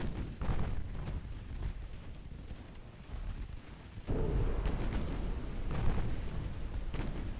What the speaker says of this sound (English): I think we're definitely taking a torpedo here